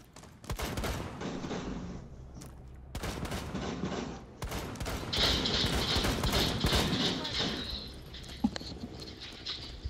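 Repeated gunfire crackles through a multiplayer video game firefight, bursts of shots layered over busy game noise, growing denser and louder in the second half with a sharp crack near the end.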